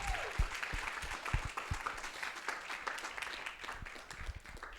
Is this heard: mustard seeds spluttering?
no